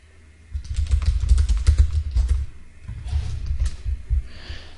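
Bursts of typing on a computer keyboard during an online lesson, close and fairly loud, with a pause between two runs of key clicks and some breathy noise in the background.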